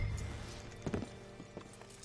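Horse hooves clip-clopping in Red Dead Redemption, a few quiet, uneven thuds close by at a slow walk, no talk over them.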